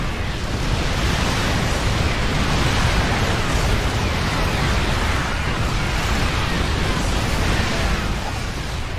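Explosions hit siege tanks and zerg units in the StarCraft II video game, a loud, continuous roar of blasts that runs unbroken for the whole stretch.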